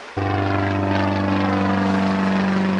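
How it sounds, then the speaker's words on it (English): A propeller airplane in a video game drones loudly and steadily, its engine tone starting abruptly and holding a constant buzzing hum to the end, with no talk. "A plane in the sky."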